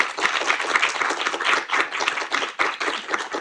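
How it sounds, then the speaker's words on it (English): An audience at a mental health and climate panel discussion gives the panel a round of applause, dense and fairly close clapping that runs steadily throughout. "can we just have a round of applause for our panel"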